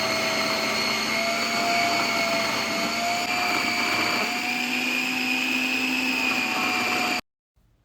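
Loud, steady motorized whine of a Preethi Zodiac mixer grinder making juice, with a slowly shifting pitch, before stopping abruptly into silence.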